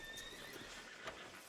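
A horse in the Red Dead Redemption 2 video game gives a short whinny, with a few hoof clops on the ground, faint and brief.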